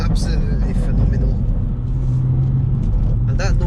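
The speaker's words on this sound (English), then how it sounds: "And that noise from the decat straight pipe." A loud, deep exhaust from a 460 bhp BMW M140i with a decat straight pipe rumbles steadily and close, with a raspy drone throughout and brief crackles near the end.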